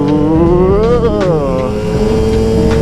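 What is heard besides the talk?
Yamaha YZ250 dirt bike engine revving through gears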